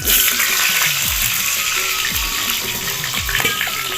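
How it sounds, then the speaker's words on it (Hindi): Pieces of pointed gourd (parwal) fry in hot oil with a loud, continuous close sizzle and occasional bubbling pops, without any speech. "अब इला तलबो संगवारी हो"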